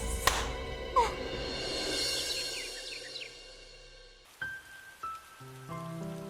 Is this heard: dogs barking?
no